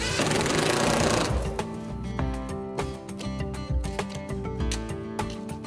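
Power driver running self-tapping trim head screws through window jambs and shim packs into jack studs during an aluminum-clad window installation, a loud whine at first, then rapid mechanical rattling and clicking.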